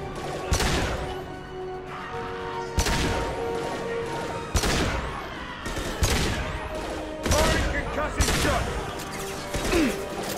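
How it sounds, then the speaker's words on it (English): Heavy pistol fire in Mass Effect 2 bangs out in repeated sharp shots spaced roughly a second or two apart, each a loud crack with a short tail, amid faint game background sound. "I probably should use the actual heavy pistol."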